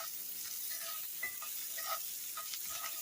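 Bacon grease salad being mixed together before seasoning goes in, soft wet stirring and tossing sounds over a fine background crackle, close and fairly quiet, with no talk.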